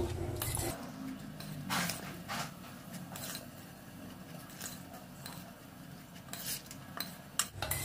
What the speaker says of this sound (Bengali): সমস্ত কিছু এবার এই চালটার সাথে ভালো করে মিশিয়ে নেব।